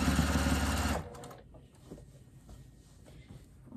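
A sewing machine backstitches fabric for an upcycled dog bed, a rapid mechanical whirring run for about a second up close, then stopping and leaving faint handling noises.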